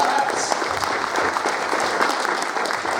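Audience at a retro gaming expo panel in Blackpool gives a round of applause, a full, steady roar of many hands clapping, close and loud throughout.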